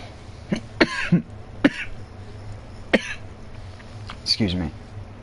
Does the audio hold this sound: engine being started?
no